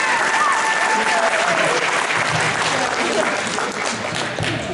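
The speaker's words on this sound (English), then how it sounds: "Kind of a round of applause if you actually do support me." A convention audience at a congressional campaign launch party claps in a loud, sustained round of applause, dense and steady throughout with some voices mixed into the crowd noise.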